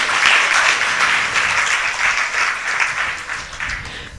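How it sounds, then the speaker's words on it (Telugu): A church congregation claps together in worship, a loud burst of dense applause that runs throughout and slowly thins toward the end. "చప్పట్లు కొట్టి దేవుని స్తుతించండి."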